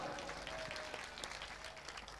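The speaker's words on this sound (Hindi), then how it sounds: "ज़ोरदार तालियों से हेमा मालिनी जी को भेंट किया जा रहा है" Faint, distant applause from a crowd at a religious festival honouring Hema Malini, a soft continuous patter of clapping heard from afar.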